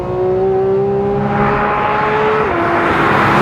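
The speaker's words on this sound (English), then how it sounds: "It's a cup race car engine, basically, adapted for the road" A Porsche 911 GT3 RS with a cup race car engine adapted for the road, loud and close, its steady high engine tone holding then dropping slightly as the broadband roar swells.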